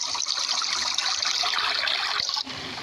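Water trickles steadily in the Roblox game Scape Ru, a bright, continuous splashing stream that carries on for a few seconds before easing off near the end.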